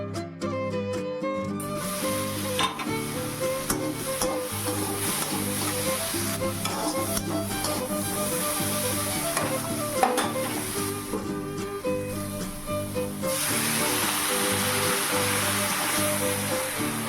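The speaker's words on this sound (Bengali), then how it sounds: "তো এখন ডালটা ফোড়ন দিয়ে নেবো।" Dried red chilli and cumin tempering sizzling in hot oil for a dal with radish, a loud continuous crackling hiss that swells near the end, with light stirring, no talk.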